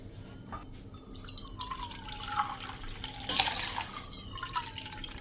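Water is poured into a bowl of sugar, three cups of water to one of sugar for a moong dal halwa syrup, giving a steady trickling splash with a rising fill tone.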